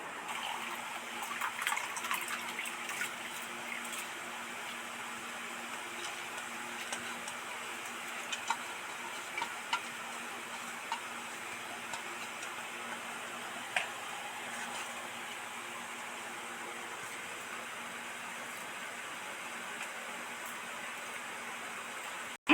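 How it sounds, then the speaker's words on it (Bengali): Soaked masoor lentils are rubbed and rinsed by hand in a bowl of water, giving a steady wet swishing with small splashes and clicks, faint and close, with no talking. "সেই ডালটা কচলে কচলে ভালো করে ধুয়ে নেব।"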